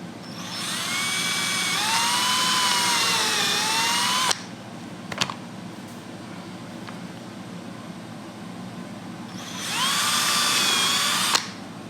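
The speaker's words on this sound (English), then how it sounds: "So let's break out the drill." A power drill runs on an aluminum radiator for an Austin-Healey Sprite, with a long whine that speeds up and slows, a pause with a click, then a second short burst, loud and close.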